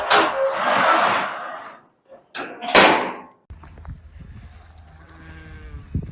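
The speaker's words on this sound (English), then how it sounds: "This is Grand Slam with his group of 15 ewes." A ram penned with a group of fifteen ewes at the start of breeding season, with loud, close bleats in the first three seconds, then a quieter stretch of faint rustling and distant farm noise.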